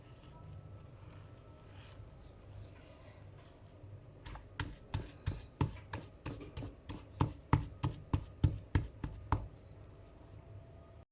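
Ice cream mixture made with salep, a vanilla base, is beaten and turned over by hand, giving a quick series of sharp, rhythmic thumps and slaps about a dozen strong, close and fairly quiet, after a softer stretch of stirring.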